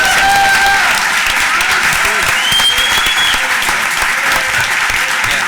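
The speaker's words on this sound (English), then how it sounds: "Round of applause again for the speakers," Loud, dense applause from an audience for speakers, panelists and law students after a panel discussion on corporate money and politics, sustained clapping with a few voices and whoops mixed in.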